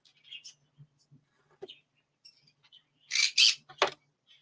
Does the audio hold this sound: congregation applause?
no